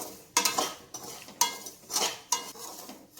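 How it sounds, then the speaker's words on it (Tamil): A spoon scrapes and stirs dry semolina as it roasts over medium heat in a pan, several distinct raspy strokes in an uneven rhythm, close and fairly quiet, with no voices. "சிம்லேயே வச்சு தான் வறுக்கிறேன் நான்"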